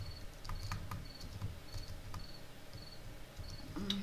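Crickets chirp in a survival video game night scene, a steady high pulsing trill of short repeated chirps over a soft constant background hiss, moderately faint with no talk.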